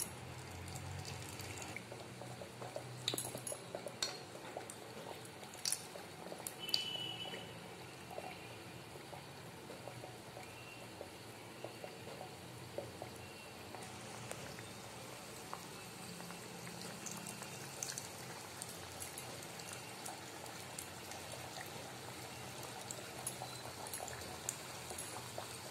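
Puris fry in hot oil in a home kitchen, giving a faint, steady bubbling sizzle that runs unbroken throughout, with a few small clicks and no talk.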